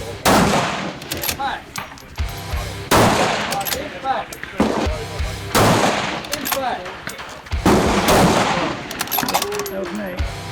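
Rifle shots at a shooting match ring out as several sharp reports spaced a couple of seconds apart, each with a rolling echo, loud and close, with voices in between.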